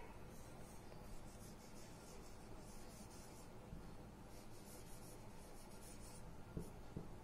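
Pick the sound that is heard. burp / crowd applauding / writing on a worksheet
writing on a worksheet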